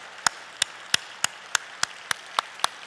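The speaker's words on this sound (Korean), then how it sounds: "수고한 이 종들을 위해서 한번 뜨거운 박수 한번 해주시기를 바랍니다" A church congregation claps for the choir ensemble after Sunday worship, heard as a string of about ten separate, evenly spaced sharp claps, fairly close and crisp against a quiet room.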